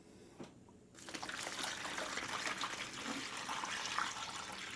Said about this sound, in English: I'm getting ready to add my water